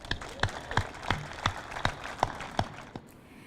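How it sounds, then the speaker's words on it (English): A small crowd gives a brief round of applause after a Navy ship naming announcement for USS Cleveland, faint and spaced, with a rhythmic beat of claps that fades out. "And you can clap for that."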